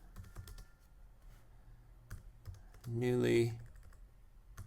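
Someone types on a computer keyboard in short irregular bursts of clicks, with one louder, denser flurry near the end and brief speech in between.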